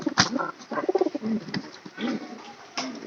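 A pigeon coos in the rain, several soft rounded calls close by, with a brief bright tap and faint background noise between them.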